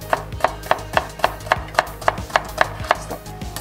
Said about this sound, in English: I have the cucumber. So we're gonna slice them thin.